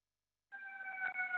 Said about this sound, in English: If you can hear in my background, there's an ambulance going by.